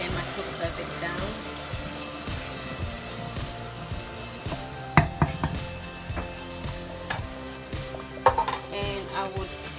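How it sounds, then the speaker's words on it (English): Onions frying in a pot for Ghanaian shito, a continuous close sizzle with scraping stirs and occasional louder clunks against the pot, with faint talk underneath. "so I'm just now going to put the onions in here."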